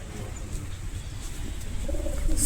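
Kamalapura Kesari pigeon pair cooing softly in a loft, low murmuring coos running steadily under a faint background hum, with a brief brighter chirp near the end.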